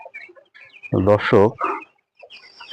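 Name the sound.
broiler chickens clucking on a poultry farm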